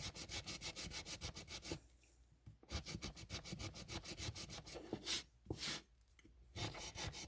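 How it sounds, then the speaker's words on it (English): Close, rhythmic back-and-forth sanding strokes on a small ceramic resin gingerbread house from Dollar Tree, in quick even runs broken by two short pauses, with no talking. "little bit more sanding down,"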